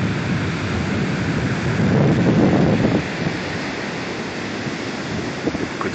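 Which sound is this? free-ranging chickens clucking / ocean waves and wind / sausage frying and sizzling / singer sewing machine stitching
ocean waves and wind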